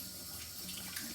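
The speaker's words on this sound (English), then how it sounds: "I'm just washing off the butter." Water runs steadily from a kitchen tap as buttery hands are rinsed under it, a continuous close splashing hiss with no voices.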